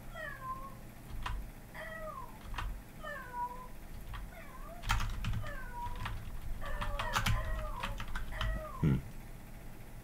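Cat meows fired from a kitty rocket launcher weapon in a video game, a rapid series of close, bright meows in a steady stream, with louder clustered meows and bursts of impact noise midway through.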